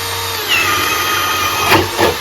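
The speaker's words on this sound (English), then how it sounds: "if you want to be able to drive this 1-inch spade bit through that 2x4" A Ridgid high-torque hammer drill bores a 1-inch spade bit through a 2x4, a loud close motor whine holding steady with rising load and two short grinding bursts near the end, no voices.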